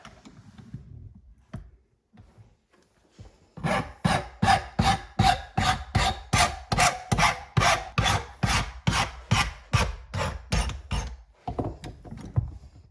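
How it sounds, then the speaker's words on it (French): A hand file cuts a bevel on the edge of new brake pads: about twenty loud, close rasping strokes in a steady back-and-forth rhythm, after a few quiet handling noises. "Sur les plaquettes neuves, on met un petit coup de lime en biais"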